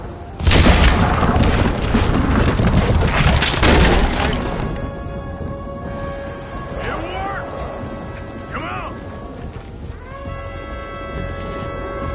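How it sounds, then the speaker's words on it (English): A cannon fires in Red Dead Redemption 2 with a loud, broad boom at the start, rumbling for a few seconds before fading under lighter game sounds and occasional voices. "What about that cannon?"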